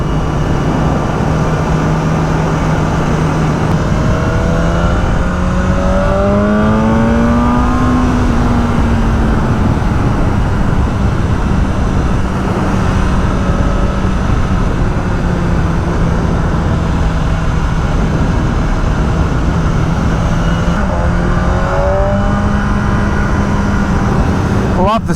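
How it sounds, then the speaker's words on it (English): A BMW M1000R motorcycle engine revving and shifting through gears, its exhaust note rising and falling loudly and close, with a deeper, rougher tone at times as the exhaust flap opens. "I love the sound when that exhaust flap opens, sounds sick"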